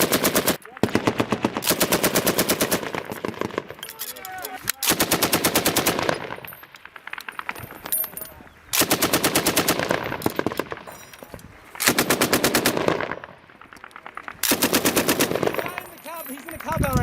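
U.S. Marines lay down sustained machine gun fire while clearing an insurgent stronghold, long rapid bursts repeating every few seconds with short gaps, loud and close, with voices in the gaps.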